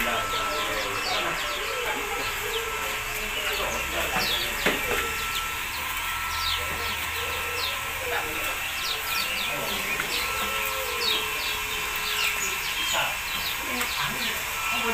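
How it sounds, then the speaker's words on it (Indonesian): Many birds chirping and calling at the Sumenep bird market in Indonesia, a dense continuous chorus of short tweets close by, with people talking underneath. "Jadi banyak burung asing di sini nih?"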